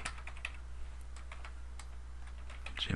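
Light, sparse keystrokes on a computer keyboard tap out at an irregular pace in a quiet room, faint and close, with a soft thump at the end.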